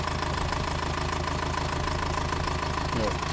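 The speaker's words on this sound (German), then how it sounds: "Wir werden jetzt auch noch mal kurz das Mikrofon da dran halten am Motor" Subaru Impreza 2.0 diesel boxer engine idles steadily up close, a low, even rumble with a faint rhythmic knock, continuous throughout.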